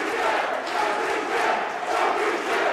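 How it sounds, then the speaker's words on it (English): Arena crowd at a JCW pro wrestling match, Ninja Mack versus Dante Leon, roars and cheers steadily and loudly, a dense wall of voices rising and falling slightly throughout. "The crowd on their feet!"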